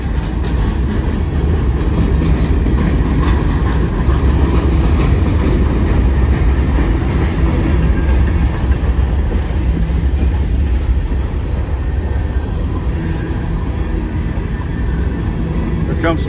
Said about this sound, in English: Here comes some potash hoppers.